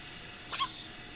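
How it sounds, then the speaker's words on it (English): A baby's single short hiccup, a quick faint chirp-like catch heard alone against a quiet background. "There's the hiccups."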